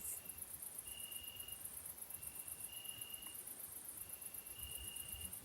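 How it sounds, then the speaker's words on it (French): Crickets chirp in a steady, soft high trill over a quiet background hiss, with no voices. "Le chant des grillons va continuer pendant quelques minutes."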